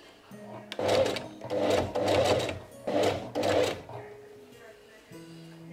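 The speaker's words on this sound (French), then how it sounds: "J'ai commencé par coudre la bande à agrafe sur tout le long." A sewing machine stitches hook-and-eye tape along a corset in several loud, close runs of rapid stitching separated by short pauses.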